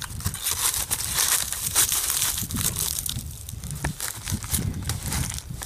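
Two sheets of tin foil wrapped around a 10mm Glock 20 pistol crinkle and crunch in a continuous close, rustling crackle, with no talking.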